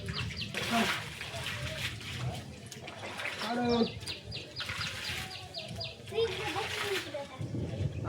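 Water splashes and swishes as a roof is washed and pushed clear, in uneven bursts, while people talk and laugh nearby and a goat and birds call faintly.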